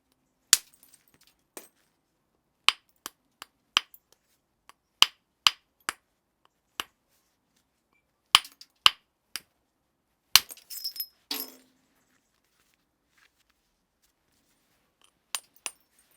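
Sharp, separate knocks of a heavy soft hammer on flint, irregularly spaced with pauses between, plus a short rattle of falling chips, alone and close, while knapping a Middle Palaeolithic bout coupe handaxe.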